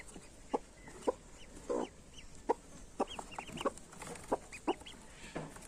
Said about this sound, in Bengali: হাঁসের বাচ্চা